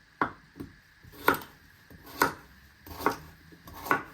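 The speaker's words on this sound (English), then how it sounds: "then you want to chop them into pieces" A knife chops carrots into pieces on a cutting board, about eight crisp, evenly spaced knocks, close and fairly quiet, with no talking.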